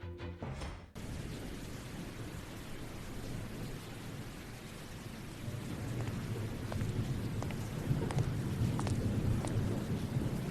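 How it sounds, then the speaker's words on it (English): A heavy thunderstorm with high winds, rain and fog: dense, steady roaring rain and wind close by, swelling louder toward the end, with scattered sharp drops and crackles across the wash. "There's high winds and rain, and a visible fog layer."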